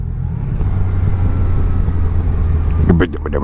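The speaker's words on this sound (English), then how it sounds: "Man, I love this engine so much." 2019 Yamaha Niken three-wheeled motorcycle engine running, a loud, deep rumble held steady close by, then a brief burst of other noise near the end.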